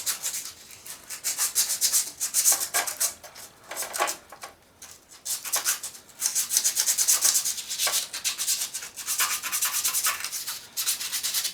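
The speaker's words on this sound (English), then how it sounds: "You want to sand the area where the magnet passes by the coil." Emery cloth sanding the magnet area of a Murray lawn tractor engine flywheel, close rhythmic scraping strokes in bursts with brief pauses, no voices.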